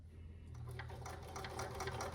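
A sewing machine stitches a fabric hem on ripplefold drapery, a faint steady whirring hum that grows slightly louder as the stitching continues, with no talking.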